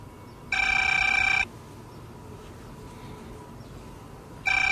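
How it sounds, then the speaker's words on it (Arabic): Telephone ringing in a home scene from an Egyptian comedy film, two bursts of an electronic bell ring separated by a pause, clear and moderately loud over quiet room tone. "ردي على التليفون."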